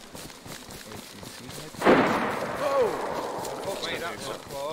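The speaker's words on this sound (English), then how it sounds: "Gun, isn't it?" A single sharp gunshot bursts out of a video game mid-clip, followed by a lingering rumbling tail, while players chat over it before and after.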